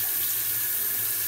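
Toilet flushing during a move-in inspection, heard as a steady close rush of running water without voices.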